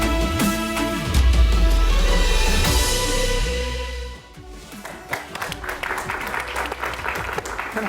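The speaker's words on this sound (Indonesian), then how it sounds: "Ada tepuk tangan." An audience at an Indonesian political talk show breaks into loud, sustained applause that fills the room, then thins into scattered claps under other sounds.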